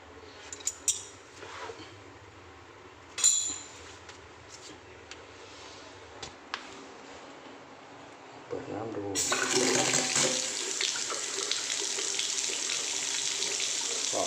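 A bathroom sink faucet is turned on and water gushes steadily into the basin after a few quiet clinks, the flow continuing loud and close to the end.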